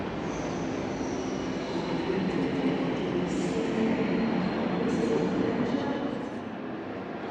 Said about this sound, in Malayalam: ഇതാണ് റെയിൽവേ സ്റ്റേഷൻ.